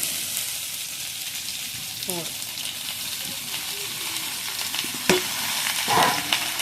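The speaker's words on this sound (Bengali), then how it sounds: "এবার ভালোভাবে কষিয়ে নেবো" Cut pumpkin and banana stem sauté in a pan for a village-style shrimp ghonto, giving a continuous close sizzle. Occasional spatula knocks and scrapes come through, and the clip ends with a louder stir.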